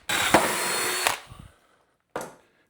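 A power drill bores through a clamped piece of wood for a DIY grip-equipment bar, one loud sustained whine of about a second followed by a short second burst after a pause.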